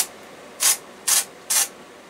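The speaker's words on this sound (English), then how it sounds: "What I'm just going to do is spray this deodorant into the back" Three short hissing bursts of deodorant aerosol sprayed into the back of a large filter, each about a quarter second long, evenly spaced, fairly close, with quiet room background between them.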